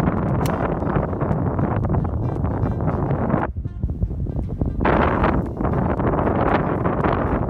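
Strong headwind on a golf course during a February storm roars and buffets the microphone with loud, continuous rumbling gusts and one brief lull midway.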